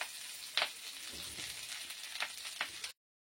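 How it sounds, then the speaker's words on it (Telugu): Drumstick leaves frying in oil in a pan, a quiet steady sizzle broken by a few sharp scraping stirs before cutting off abruptly. "మన మునగాకుని తీసుకొని ఇంకా ఇందులో వేసి మంచిగా ఫ్రై చేసుకోవాలి"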